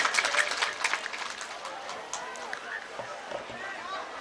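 A crowd at a mushaira poetry gathering claps, loudest in the opening second before thinning out beneath a speaking voice.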